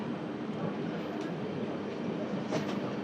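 A freight train runs along a curving railway line toward New Jalpaiguri, giving a steady, distant rumble with faint clattering that holds throughout, with no voices over it.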